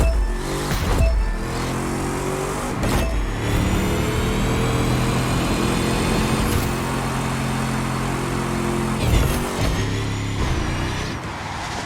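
Car engines in The Crew 2 racing game, a steady mid-pitched drone with rising revs and gear shifts, interrupted by a few sharp bursts, loud and continuous with no talking.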